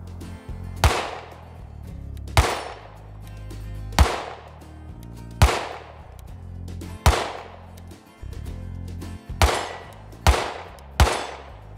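Gunshots from a compact 9mm pistol loaded with American-made ammunition, fired at a swinging steel target 30 yards away: eight sharp, loud reports at a steady pace, each trailing into a short echoing decay, with no talking.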